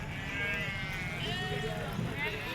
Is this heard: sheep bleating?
yes